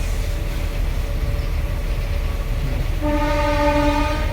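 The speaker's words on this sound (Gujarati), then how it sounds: "બાકી જો ટ્રેન જાય છે" A passenger or goods train rolls past near a railway crossing in India with a steady rumble, and its horn sounds loudly and sustained in the final second and a half, with no one speaking.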